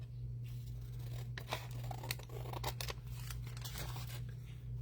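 Scissors snip through paper in a series of close, crisp cuts, irregular and spaced over a few seconds, over a steady low electrical hum.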